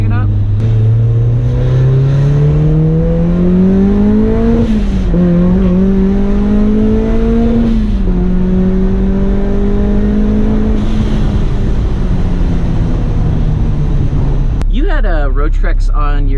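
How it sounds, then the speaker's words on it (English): A supercharged Mazda Miata with a Racing Beat exhaust revs loudly and steadily, its pitch climbing and dipping through several long pulls, then drops off into a brief rattling burble at the end. "this particular exhaust setup on this Miata sounds pretty darn good"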